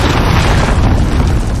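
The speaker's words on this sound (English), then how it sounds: "Enemy cruise missile incoming." Cruise missile blast in Call of Duty: Modern Warfare multiplayer, a loud, sustained roaring explosion that fills the whole moment with dense rumble and crackle, close and overwhelming.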